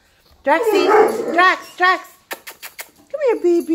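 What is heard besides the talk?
dog barking and attacking a glass door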